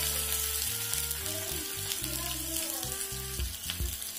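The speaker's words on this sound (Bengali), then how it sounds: "এগুলোকে একটু ভেজে নেব।" Chopped garlic, curry leaves and onion fry in oil for Andhra pappu dal, with a continuous crackling sizzle under fairly loud background music.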